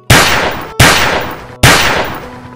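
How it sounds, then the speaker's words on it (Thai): Three loud rifle shots, evenly spaced, each with a sharp crack followed by a long echoing decay through a narrow valley that rings out before the next blast. "เสียงปืนไรเฟิลดังสะท้อนในหุบเขา"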